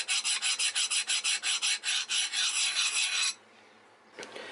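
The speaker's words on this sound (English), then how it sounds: "I want to do a little file test on it. See how the file just skates over?" A file skating over a fully hardened knife blade made from a crowbar, about fifteen quick rasping strokes in a steady rhythm up close, then a pause and one last short scrape.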